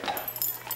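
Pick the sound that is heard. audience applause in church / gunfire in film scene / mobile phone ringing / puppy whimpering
puppy whimpering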